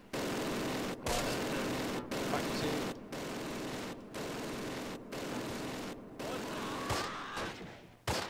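Gunfire in the Close Combat war game, with rapid bursts of small-arms fire crackling in long repeated volleys separated by brief gaps, loud and close, and a few deeper thuds mixed in.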